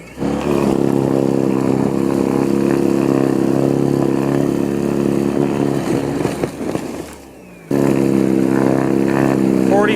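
A SENIX 21-inch X6 battery-powered snowblower runs with a loud, steady motor whine and auger drone. The sound dips briefly near the end before resuming at full strength.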